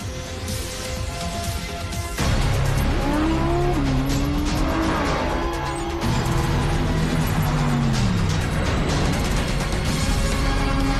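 A third-generation Porsche Cayenne, a 550-horsepower super SUV, roars with rising and falling engine tones while its tires squeal, loud and close throughout, with a sharp surge after the first couple of seconds.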